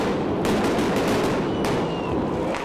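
Burning firecrackers are thrown by protesters during street clashes with police, heard as rapid sharp cracking bursts over a loud constant crowd roar.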